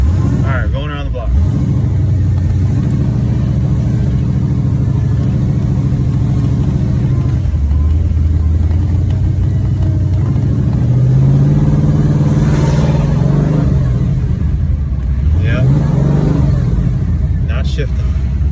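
A 1996 Chevrolet Impala SS with a failing transmission drives around the block, its engine droning loudly and steadily with rising and falling revs as it shifts, a voice talking over it throughout.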